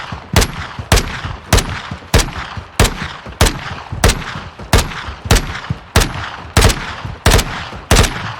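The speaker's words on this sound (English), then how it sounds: "My friend Dookie is going to run around me and I'm going to take shots" Loud, evenly spaced gunshots ring out in Call of Duty: Modern Warfare 2, about a dozen sharp reports in steady rhythm, with softer movement sounds between them.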